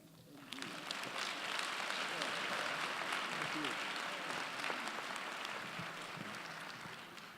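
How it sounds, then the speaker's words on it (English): An audience at an honors convocation claps steadily, a dense patter of many hands that swells quickly and holds at an even level, fairly loud, with some scattered cheering mixed in. "a round of applause to all of our student scholars"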